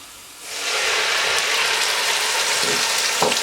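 A loud, steady sizzle erupts as ground onion hits hot oil, then keeps hissing and crackling up close with no talking.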